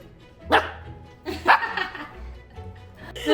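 A puppy gives a few short, loud barks close by at a birthday gathering, mixed with people talking and laughing around it.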